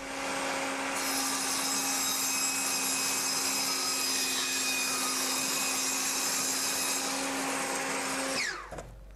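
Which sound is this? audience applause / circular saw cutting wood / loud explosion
circular saw cutting wood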